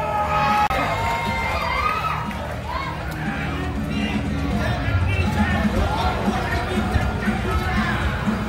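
A crowd at a Muay Thai Extreme fight event in Thailand welcomes a teacher with dense, continuous noise. Cheering and shouting swell throughout, and someone speaks over the crowd.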